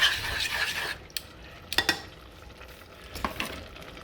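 Chicken wings with lemon pepper seasoning being stirred in a pan, giving a soft scraping, sizzling wash with a few sharp clinks of a utensil against the pan, close and moderately quiet.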